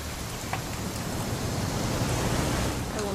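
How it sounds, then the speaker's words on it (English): Steady rain falls in the video game What Remains of Edith Finch, a dense, even hiss of drops on surfaces with no break from start to end and no voices. "It's gonna rain the whole weekend,"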